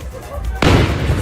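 A firework goes off with a sudden broad burst that cuts through a quiet rumble and keeps crackling and roaring loudly to the end.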